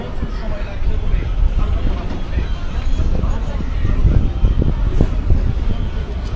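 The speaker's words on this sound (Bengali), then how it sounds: "এদিক দিয়ে খুব আস্তে আস্তে ট্রেন যাবে, ডুকডুক ডুকডুক করে।" A local passenger train moving slowly along the line near a station in northern Bangladesh, a low steady rumble with faint rhythmic wheel clatter, heard close and continuous throughout.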